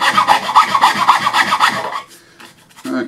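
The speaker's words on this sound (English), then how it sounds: "I won't bore you with me filing it, but I'm going to go through each of the holes" A file rasping inside holes in wooden breadboard ends, fast rhythmic back-and-forth strokes, close and loud for about two seconds before trailing into quieter scraping.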